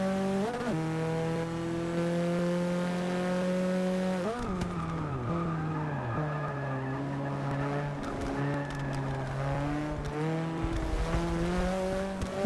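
Race cars in the Forza 6 video game, including a Subaru 22B, scream past in a drag race, engines holding a loud sustained tone, dipping through gear shifts with brief tire squeal, no talk over it.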